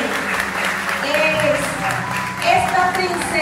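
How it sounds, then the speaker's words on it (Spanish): Applause rings out in a church and blends with people talking over it, holding a steady level and swelling briefly toward the end. "esos aplausos que nos escuchan"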